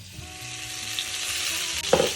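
Swedish meatballs, köttbullar, frying in a pan near the end of cooking over low heat, giving a steady close sizzle with a few soft stirring scrapes and a brief louder clatter toward the end.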